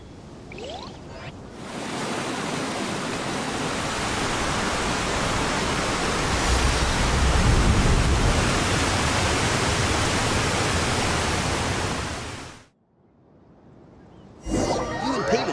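A sudden water current rushes through a scene in the video game Genshin Impact as a loud, broad roaring whoosh that swells for about ten seconds, then cuts off abruptly, followed by faint chimes.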